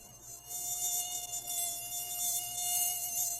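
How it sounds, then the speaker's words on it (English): Mosquito buzzing with a steady, high-pitched whine and stacked harmonics, loud and close, continuous for the whole stretch with only slight wavering and no talk. "It's a mosquito."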